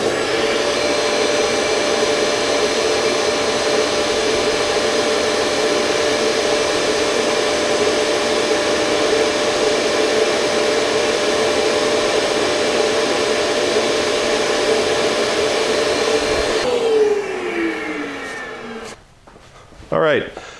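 A dust extractor hooked to an Oneida Dust Deputy cyclone whines and roars steadily at close range, then spins down near the end with a falling pitch, followed by a brief clunk.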